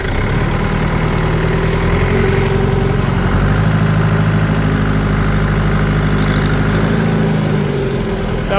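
Tractor engine idling on a dairy farm, a loud steady low rumble with a shifting mechanical tone, close and unbroken throughout, no speech.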